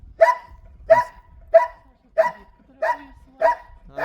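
A young dog that is not yet full grown barks in a steady series of about seven sharp barks spaced roughly half a second apart, fairly close and clear, with no talk over them.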